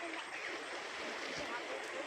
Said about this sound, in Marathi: हे जे पाणी दिसते तुम्हाला, हे एका पुलाच्या वरून चाललेलं आहे